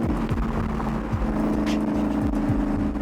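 A Factory Five 427 Cobra replica's engine revs in repeated rising bursts over a deep, steady idle rumble, loud and close with no talking.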